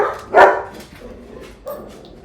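A dog barks indoors, one loud sharp bark near the start followed by softer yips or whimpers, heard alone in an otherwise quiet room.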